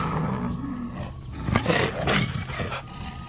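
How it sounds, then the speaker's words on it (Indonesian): In a film scene, a jaguar faces a black panther up in a tree, and a big cat lets out deep, rumbling roars and growls that swell and fade over about three seconds. "jaguar Pau harus menghadapi macan kumbang di atas pohon tersebut"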